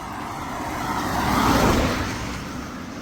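A car passes on a rural road at 6 a.m. on a Sunday along the Camino Primitivo between Arzúa and Santiago de Compostela, its tire and engine roar swelling to a peak midway and fading away.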